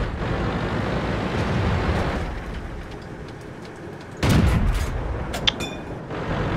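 A British medium tank's main gun fires in a tank battle game, one loud booming shot standing out from a steady rumble of engine and battlefield noise.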